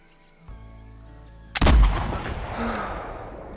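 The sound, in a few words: gunshots from a rifle in a video game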